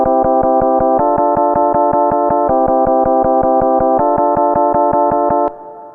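An Ambient Ø synth sequence plays the same spread chord as a run of evenly spaced, sharply plucked steps, loud and rhythmic, shifting voicing every few beats before ending in a short decaying tail.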